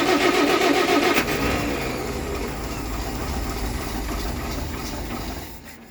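A 1960 Citroen ID19 engine cranks and catches, running rough and loud at first before settling into a steadier mid-pitched idle that fades near the end.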